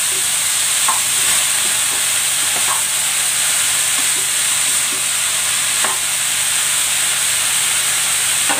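Cabbage and bean sprouts go into a hot frying pan with fried sweet potato and tofu for lumpiang togue, giving a loud steady sizzle and hiss with a few faint stirring clinks, no speech.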